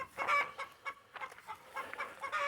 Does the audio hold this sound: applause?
no